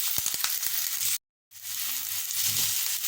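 Rice poured into a pot of onions frying in oil for Trinidadian cook-up rice, a few crisp clattering hits and then a steady close sizzle, broken by a short gap of silence.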